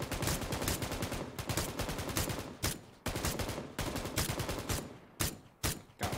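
Dense bursts of gunfire from an online loot-drop shooter game, rapid overlapping shots in a continuous barrage with brief gaps, loud and close.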